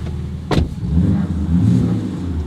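A big-block American muscle car engine revs hard once, then settles into a loud, throaty rumble from a deep, aggressive Flowmaster exhaust, close by.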